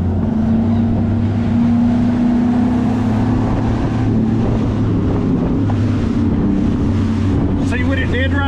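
A bass fishing boat's outboard roars and builds as the hull accelerates up onto plane, with heavy wind buffeting the microphone throughout and water rushing beneath.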